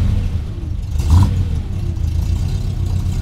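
A Triumph Stag's engine turns over with the choke still out and rises into a steady, loud rev, a brief whirring burst near the start then a sustained mid-pitched engine drone close by.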